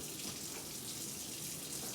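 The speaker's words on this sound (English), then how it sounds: "Run warm water over hand and wrist while not leaning against sink or splash water on clothing." Warm water runs from a sink tap over hands, a steady close splashing rush with no voices.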